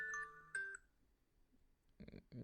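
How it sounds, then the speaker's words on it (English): A clock alarm sounds a few bright chiming tones, then falls quiet before two short muffled bursts follow. "The clock went off."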